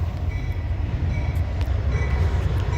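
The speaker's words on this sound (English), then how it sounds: "I think I hear a fucking train coming" A train rolls past nearby with a continuous low rumble and a rattle of wheels on the rails, punctuated by a few faint metallic squeals and clicks, and no one speaking.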